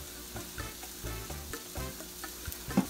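Mahi mahi and vegetables hiss in a hot pan as lime juice goes in to deglaze it. A steady close sizzle runs throughout, broken by rhythmic scrapes and light clatters from stirring.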